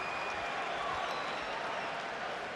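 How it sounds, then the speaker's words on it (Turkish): Applause from the crowd at a boxing match between Miguel Cotto and Daniel Geale, a steady wash of distant clapping filling the arena, with a commentator's voice faintly underneath. "Ve alkışlıyorlar da"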